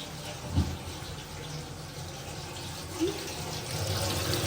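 Water running steadily from a tap as spinach is rinsed under it, a soft continuous splash with a couple of small knocks.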